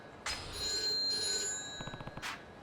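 Loud, close electronic ringing from a payphone in the Yakuza 3 video game, one long ring followed by a rattling burst and a second brief ring, with no talking.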